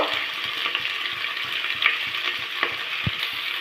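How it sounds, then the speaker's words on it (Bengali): Vegetables and ginger frying in a pan give a steady, close hiss of sizzling oil, broken by light scraping and stirring taps, with one firmer knock near the end. "আদাটা দেওয়ার পর আবারও ভালোভাবে সবজিগুলোর সাথে একটু ভেজে নেওয়া হচ্ছে কাঁচা গন্ধটা চলে যাওয়া পর্যন্ত"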